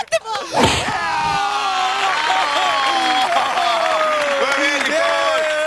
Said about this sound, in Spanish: Le hacen un fuerte aplauso para Jimmy, por favor.